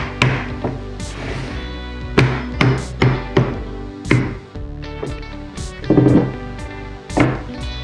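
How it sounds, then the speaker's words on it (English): A hammer strikes cardboard to beat a crease into a mailing box, giving a series of sharp, irregular knocks with short pauses between them, close and loud, with no talking. "And hammer this out."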